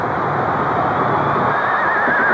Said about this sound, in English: You hear that horse noise in there